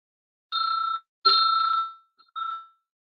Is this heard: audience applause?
no